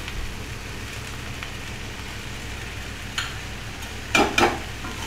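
Boiled cluster beans being stirred with salt in a pan over a steady low sizzle, with a couple of louder scraping strokes near the end.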